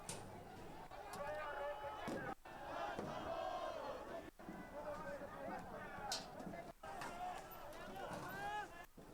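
A large crowd of protesters during unrest in Mexico City shouts and chants continuously and loudly, with rhythmic cries rising and falling and brief dropouts between bursts.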